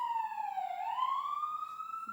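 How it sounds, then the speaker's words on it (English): Police siren in Brooklyn, a single clear wailing tone dipping and then rising again, fairly distant and faint, with no talk. "sorry about the sirens."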